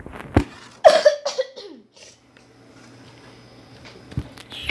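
A single sharp cough from a person close by, followed by a few quieter throat noises and then near silence with faint background hum.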